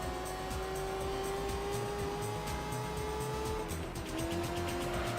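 An NSX race car in Gran Turismo 3, in a concept prototype race, gives a steady, loud, high-revving engine whine that drops briefly with a gear shift near the end before climbing again.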